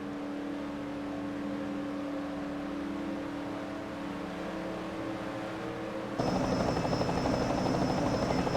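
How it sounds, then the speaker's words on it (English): A helicopter in the NR2003 racing game hovers over the Indianapolis Motor Speedway race, a steady whirring drone that suddenly turns louder and rougher near the end, with no voices. "the helicopter looking down at the 3 cars who are leading this race"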